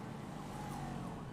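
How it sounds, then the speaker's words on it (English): Wailing police motorbike siren from Grand Theft Auto V, a steady loud electronic sweep over the low drone of a fast bike engine, continuous through the short stretch with no talking. "I'll leave the sirens on"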